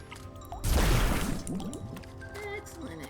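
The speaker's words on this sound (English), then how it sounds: "Let's fill you up with water." A container filled with water at a forest well in the video game Wytchwood, a short burst of splashing and pouring followed by gurgling drips over soft game music.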